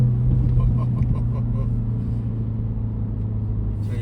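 A 2025 Mini Cooper JCW three-door in go-kart mode gives a deep, steady engine drone from inside the cabin, a strong low hum that fades slightly toward the end.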